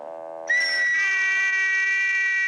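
A person blows a loud, sustained high whistle to summon valets, rising sharply in pitch partway through and held steady to the end.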